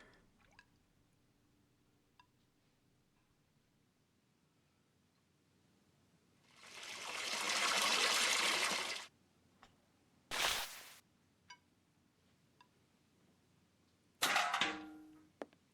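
Water trickles and splashes while a dirty doll is cleaned in Sherlock Holmes: Nemesis: a steady pour of a few seconds in a quiet room, followed by two short splashy bursts.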